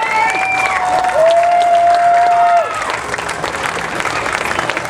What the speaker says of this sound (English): let's give him a round of applause, Mr. President.